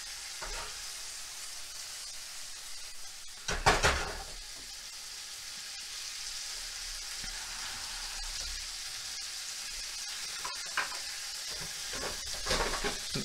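Onions pre-cooking in a small stir-fry pan for a beef and broccoli stir fry give a steady close hiss and sizzle, with one louder clatter of stirring near the start and faint utensil sounds later.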